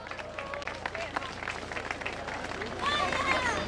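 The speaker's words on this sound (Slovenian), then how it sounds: "Najprej seveda gasilcu Samu, to je en aplavz!" Applause for a sponsor, a firefighter named Samo, at a local event: a crowd clapping and cheering steadily through the whole moment, swelling louder near the end with some whistles and voices mixed in.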